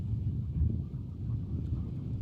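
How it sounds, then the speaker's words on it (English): Low, steady wind by the ocean rumbles and buffets against the microphone, a continuous muffled roar with slight gusts and no voices. "It's always a little windy out here just because you're by the ocean,"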